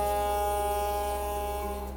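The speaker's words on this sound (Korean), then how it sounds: "일단은 일반적으로 나오는 음파 모드 이거는 그냥 원래 대고만 있으라고 하니까" A sonic electric toothbrush fitted with a cheap brush head runs in its standard sonic mode, giving a steady, close, even electric buzz that holds for the whole stretch with no talking.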